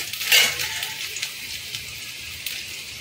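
Frying in a pan over a medium gas flame for an egg devil snack, a steady close sizzle with a brief louder hiss and light stirring scrapes throughout, no voices.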